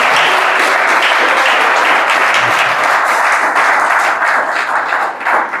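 A church congregation at a family worship service applauding, a loud, full burst of crowd clapping that stays steady throughout and thins a little near the end.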